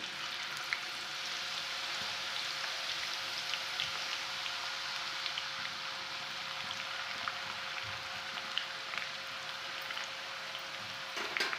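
Steady crackling sizzle of chopped snack pieces frying in hot oil, with tiny pops scattered throughout, continuous and close.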